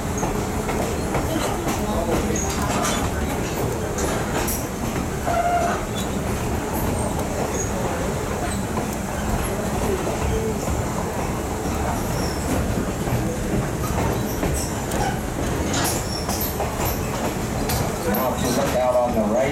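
A Middletown and Hummelstown Railroad passenger train rolls along its track, giving a steady loud rumble with wheel clatter and occasional brief squeals throughout, and a voice talking faintly underneath.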